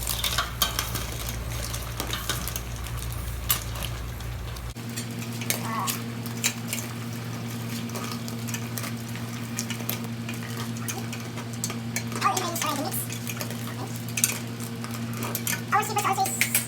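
Seafood and tomato ketchup are stirred in a pan over a steady low frying hum, with intermittent scraping and clinking of the utensil against the pan, close and moderately loud.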